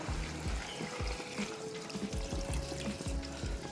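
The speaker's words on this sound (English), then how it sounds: "grab our water, pour it over." Water pours steadily into a frying pan holding juices left from frying steak, a continuous close splashing trickle with no talking.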